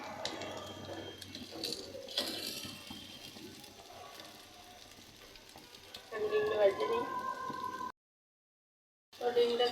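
Eggs frying in a pan give a faint, steady sizzle with occasional clinks, mixed with a person talking, then a brief silent gap before the sizzle returns.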